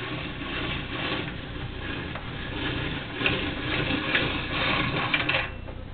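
A hand-cranked home pasta machine rolls a sheet of pasta dough, giving a steady close mechanical rattle and whir with small clicks and knocks, and no talk.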